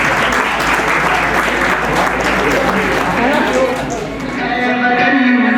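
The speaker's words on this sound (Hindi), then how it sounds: "जोरदार तालियां हो जाए सबके लिए।" Loud sustained applause from an audience at an Independence Day celebration during an award presentation, dense clapping filling the whole stretch with a slight dip near the end as music begins to come in.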